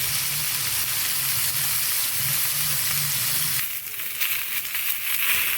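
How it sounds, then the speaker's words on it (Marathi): Tomato slices and white pumpkin sauté in a pan over medium gas, a steady close sizzle with a low hum underneath, then a brief softer stir-and-scrape near the end. "या टोमॅटो स्लाईस आणि हा पांढरा भोपळा जो आहे ते छानपैकी आता गुलाबी रंगावरती परतून झालेला आहे"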